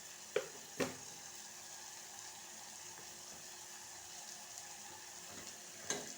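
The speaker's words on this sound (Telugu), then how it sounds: "మంచిగా గోలుతాయి అన్నమాట ఉల్లిగడ్డలు" Onions fry in a pan with a continuous soft sizzle, close by, while a few sharp clinks of a spoon against the pan stand out near the start and end; no talking.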